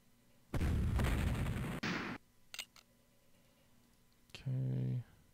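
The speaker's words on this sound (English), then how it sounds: "Let's continue shooting at what we can with our artillery." Artillery fires in the Civil War strategy game Civil War Generals II: a loud, sustained cannon blast, then scattered clicks, and a second shorter boom with a ringing tone, all crisp game sound effects.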